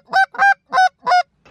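Geese on a pond where over a thousand birds are roosting, honking loud and close in four distinct calls with a fifth starting at the end.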